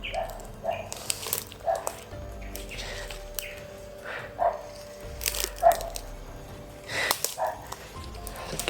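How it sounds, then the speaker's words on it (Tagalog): A dog barks several times in the distance outdoors, short faint yelps spaced a second or so apart over a low background hum, with a few bird chirps. "May ingay. Aso. Tahol ng aso."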